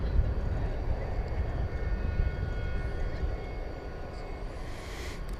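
A UPS Airbus A300 sits at DFW Airport at night, its engines giving a steady, moderately loud roar that stays even with no talk over it, and a faint higher whine rises near the end.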